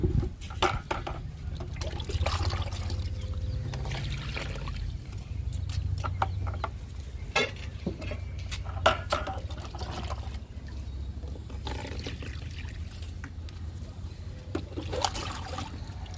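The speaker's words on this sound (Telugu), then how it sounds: "చెట్టు చిక్కులకి ఇచ్చేసామండి లిక్విడ్ని." Liquid fertilizer is poured onto garden plants outdoors, giving a continuous low splashing pour with scattered knocks, and chickens cluck now and then in the background.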